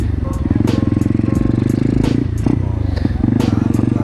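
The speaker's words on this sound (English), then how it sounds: "Look at all the bikes out here." Motorcycles idling and revving at a bike night gathering, a steady dense engine rumble with clattering and brief rev bursts, loud and close, with people talking in the background.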